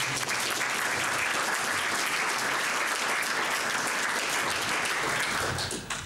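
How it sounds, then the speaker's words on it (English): A dense, even wash of audience applause fills an afternoon church session, loud and sustained throughout, tapering slightly at the very end. "A round of applause."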